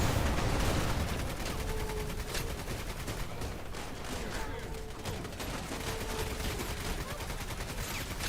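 Dense gunfire rattles in a military video game, rapid automatic bursts and shots blending into a continuous loud barrage across the whole stretch, with no voices audible over it.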